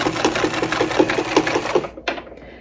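A 1950s Singer 306W sewing machine runs a straight stitch through quilting cotton, with a rhythmic, slightly clanky bobbin clatter at an even pace close up before it stops near the end.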